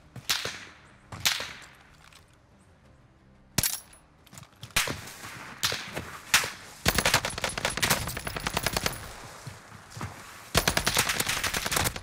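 Gunfire in Call of Duty Warzone on the Caldera map: sharp, loud cracking shots in scattered single reports, then bursts of rapid automatic fire that grow denser toward the end, with no talk.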